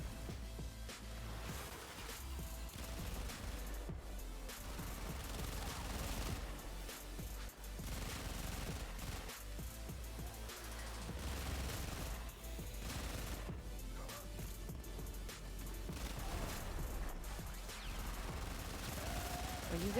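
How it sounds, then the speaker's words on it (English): Faint, distant gunfire in Warframe, with scattered bursts and volleys running continuously under a dense layer of game noise and music. "Somebody was shooting at me."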